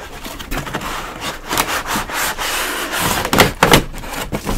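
An iSonic P4810 ultrasonic cleaner is slid out of its cardboard box in short pushes, giving loud scraping and rubbing of cardboard with a few sharper knocks near the end.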